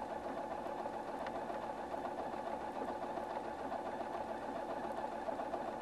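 A Husqvarna Viking Platinum 770 sewing machine stitches shoulder seams on a top, its motor running in a steady, even hum with a fine mechanical rattle throughout.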